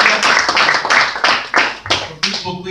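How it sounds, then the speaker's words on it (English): A church congregation claps hands in praise, a short burst of uneven, close claps with a few distinct sharp hits standing out from the patter. "can we just give a hand clap of praise to the Lord for those souls?"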